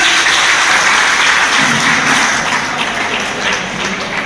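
Loud, dense audience applause at an award ceremony in Hisar, Haryana, many hands clapping together continuously and fading slightly toward the end, with no speech over it.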